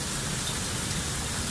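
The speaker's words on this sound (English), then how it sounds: "coming down again, and I have no idea where the rain came from" Rain falling outside, a steady, dense hiss of drops with no breaks, fairly loud and even throughout, with no voices.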